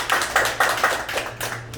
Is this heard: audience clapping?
yes